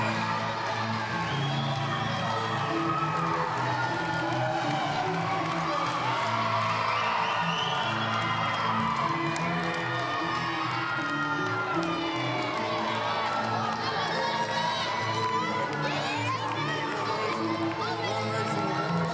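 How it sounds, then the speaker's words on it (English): A wrestling show crowd cheers wildly and continuously, dense shouts, whoops and high children's voices layered over a constant roar that never lets up. "you can hear the crowd go wild as Pineville's own Michael Cook."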